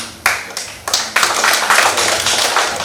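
An audience at an election literacy training session applauds, with scattered claps swelling into a fuller, steady round of clapping after a few separate bursts.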